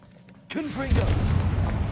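A Confringo blasting spell goes off in Hogwarts Legacy, a sudden booming burst followed by a sustained rumbling roar with crackling debris, loud and close.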